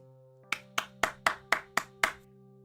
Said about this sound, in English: she clapped her hands and looked at me with a smile